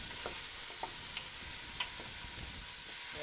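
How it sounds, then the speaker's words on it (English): Peppers and onions sauté in an Instant Pot with a steady, soft sizzle, broken by occasional light scrapes and taps of stirring. "we want to saute that for about 5 to 6 minutes Wow. until the peppers and the onions are softened"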